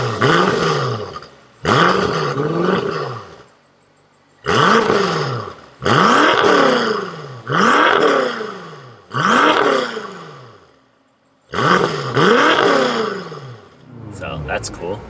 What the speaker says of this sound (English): So I'm gonna rev it a bit, and you can hear it and see it as well